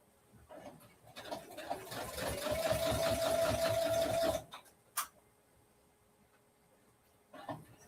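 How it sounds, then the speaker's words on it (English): A sewing machine stitching scrappy fabric for a dog leash runs in a fast rattling burst for a couple of seconds, then stops, followed by a sharp click and soft handling noises. "I cuss about my sewing machine"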